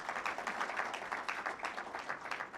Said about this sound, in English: Let's give another round of applause to Mumba.